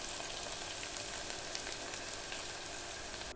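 Onion and green chillies frying in a pan for peas pulao, a steady close crackling sizzle with faint stirring, no voices, cutting off abruptly at the end.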